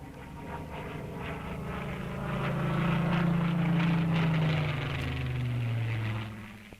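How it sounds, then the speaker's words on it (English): Supermarine Spitfire aircraft in flight, a loud propeller engine roar that swells as it passes and then fades, heard alone in an old archival recording. "And the average Britisher knew and welcomed the Spitfire sound."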